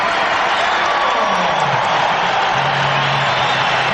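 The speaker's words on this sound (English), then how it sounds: "The people are giving him a very deserved round of applause" Arena crowd at the 1981 NBA All-Star Game in a sellout Coliseum of over 20,000, giving a steady, broad roar of applause and cheers for a player, with a commentator talking over it.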